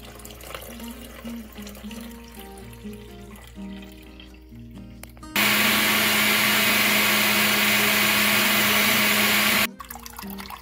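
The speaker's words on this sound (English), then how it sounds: "now we have a blender" A kitchen blender blending carrots for Jamaican-style carrot juice, a loud steady whir running for about four seconds in the middle, with quieter background noise before and after.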